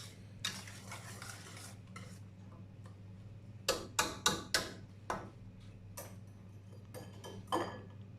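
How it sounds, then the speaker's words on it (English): Egg yolks and cream being whisked together in a bowl for Greek bugatsa, with irregular clinks of the whisk against the bowl and some louder rapid strokes over a steady background hum. "Make sure you get all the corners and everything, all of the cream to be incorporated with the egg yolks"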